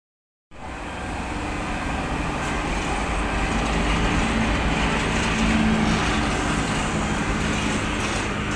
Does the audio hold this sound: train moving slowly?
yes